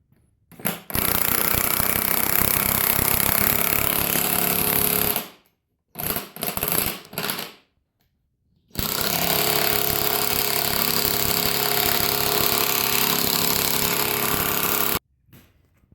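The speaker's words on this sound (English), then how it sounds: "We've got our impact gun on here, and we're just gonna get cranking and pull this through." An impact gun cranks a puller to draw a stuck rim off a lawn tractor axle, hammering loudly and continuously in long bursts with a few short pauses and brief stuttering blips between them.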